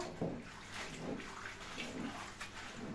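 Spinach dropped into a bowl of water while cooking in a home kitchen, giving a steady, close, broadband sloshing and splashing wash throughout, with no talk.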